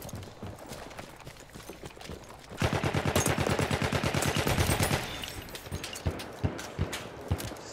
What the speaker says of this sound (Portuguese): Se é pra cair, vamos cair atirando, né, meu filho?